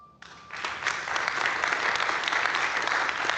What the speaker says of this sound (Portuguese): E esse público batendo palmas